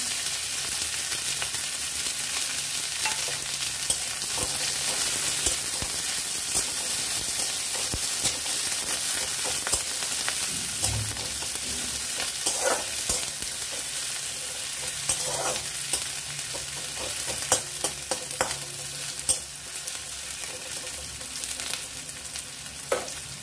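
Onion with green and dried chillies frying in oil for radish greens: a steady, close sizzle runs throughout, broken by repeated scrapes and clinks of stirring in the pan.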